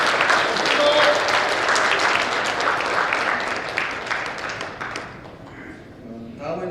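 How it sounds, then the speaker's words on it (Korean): Warm audience applause at a political lecture event in Sokcho, Korea, loud steady clapping that slowly thins and tapers, with a voice starting to speak near the end. "뜨거운 박수 부탁드리겠습니다."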